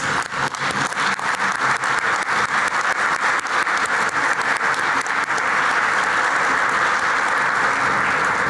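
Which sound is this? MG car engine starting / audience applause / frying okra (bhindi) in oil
audience applause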